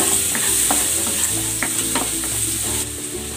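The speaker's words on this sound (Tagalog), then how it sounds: "Gigisa ko na tong bawang." Garlic sautéing in a little cooking oil in a pan, a steady close sizzle with a few brief utensil scrapes and stirring clinks, no voices.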